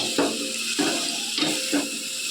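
A spoon stirs a thick coconut and new jaggery mixture in a pan for coconut laddus, making about four slow, rhythmic scraping strokes over a soft, steady sizzle, close by with no talking.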